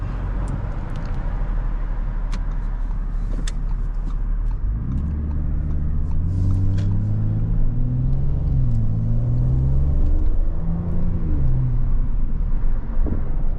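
Engine of a 2025 Audi S7 sportback sedan heard from the cabin, idling low at first, then climbing and shifting through gears under hard acceleration over steady road rumble, with no talk.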